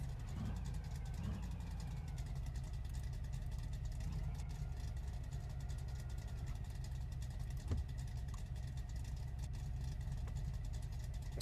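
A Slant 6 car engine drones steadily with a deep, rough mid-pitched hum through a first gear launch attempt, with light knocking and mechanical clatter throughout.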